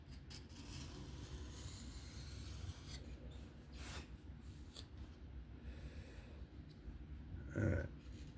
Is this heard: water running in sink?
no